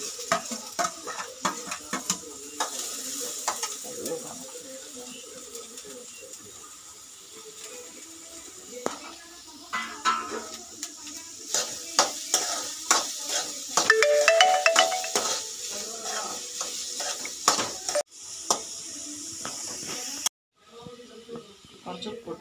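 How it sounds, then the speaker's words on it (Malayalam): Onion, green chilli and ginger sautéing in coconut oil give a steady sizzle, with frequent stirring scrapes and clicks of a spoon against the pan. Talk runs over the cooking throughout. "2 സവാള, 6 പച്ചമുളക്, 1 കഷ്ണം ഇഞ്ചി ഒക്കെ പൊടിയായി അരിഞ്ഞതാട്ടാ. 2 കഷ്ണം വെളിച്ചെണ്ണ ഒക്കെ വഴറ്റുന്നു കേട്ടാ."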